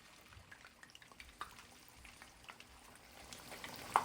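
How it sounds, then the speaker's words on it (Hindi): Spicy raw keema kebabs frying in oil over a medium flame, a faint, steady crackling sizzle with scattered small pops that grows slightly louder toward the end. "हमने तेल को मीडियम फ्लेम पे गरम किया है, और मीडियम फ्लेम पे ही हम इसे फ्राई करेंगे।"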